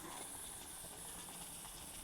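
Bhajji fry in hot oil with a faint, continuous high hiss and soft crackle, steady and unbroken with no talking.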